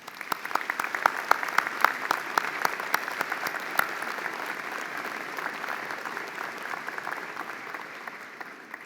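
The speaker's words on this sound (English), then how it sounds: "Let's give him another round of applause." A university convocation audience in a hall gives sustained applause, with many hands clapping in a dense, lively patter that keeps an even level before easing slightly at the end.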